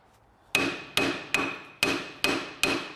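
Six sharp metallic hammer strikes on the lip of a rusty Peugeot 206 front brake disc ring out at a steady pace, each with a bright clang and short decay, close and alone.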